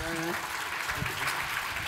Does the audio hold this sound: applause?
yes